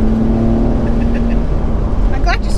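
A Nissan 350GT engine drones steadily under close conversation, then a quick rising rev cuts in near the end on a downshift.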